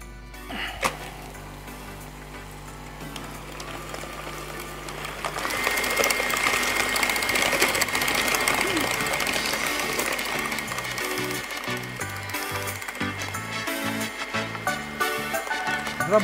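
An electric mixer beats sugar and vanilla into cream, a steady motorized whir that rises partway through and keeps running continuously, close and moderately loud, with no one talking.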